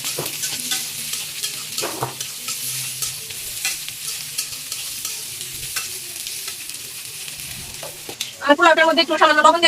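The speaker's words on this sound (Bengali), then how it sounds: "যে পেঁয়াজ মরিচটা ভাজা ভাজা হয়ে আসছে" Onions and green chillies frying in a pan, a continuous close sizzle with regular stirring scrapes, followed at the end by a brief louder burst of clatter.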